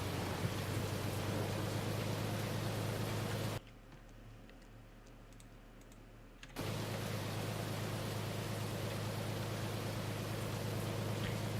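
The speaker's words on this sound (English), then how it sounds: "for some reason we're getting 40-mile-an-hour winds" Strong wind and heavy rain in a storm chasing video game rush as a loud, steady wash of noise that cuts out abruptly for a few seconds and then returns at full strength.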